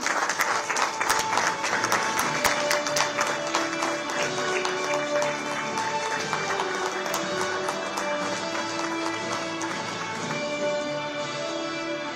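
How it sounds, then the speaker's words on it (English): An audience at a live Mumbai event claps in sustained, even applause for around twelve seconds, a dense crackle of many hands that stays fairly level throughout, with faint crowd murmur and no clear speech. "A round of applause, everyone."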